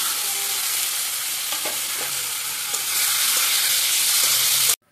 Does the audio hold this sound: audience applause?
no